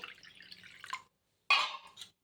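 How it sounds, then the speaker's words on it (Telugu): Two short pours of water splash softly into a bowl of wheat rava and curd mixture, separated by a brief silence, close and fairly quiet. "ఇప్పుడు నీళ్ళు వేసుకుందాం"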